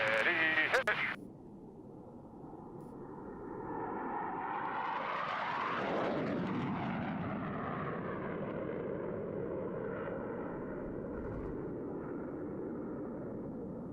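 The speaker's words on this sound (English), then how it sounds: "all 4 pilots will simultaneously roll their aircraft 360 degrees as they perform the Diamond Aileron Roll" Four jet aircraft in formation fly a diamond aileron roll at the Reno airshow: a brief burst of sound at the start, then a loud rushing jet roar that swells as the formation passes near and slowly fades, with the pitch sweeping downward.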